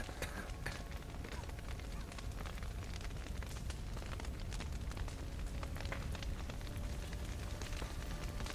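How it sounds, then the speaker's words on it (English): Dense crackling and popping of a fire burning steadily in The Witcher 3: Wild Hunt, with a rough rumbling roar underneath and sharp snaps scattered throughout. "Shit, fire's spreading. Lots of smoke."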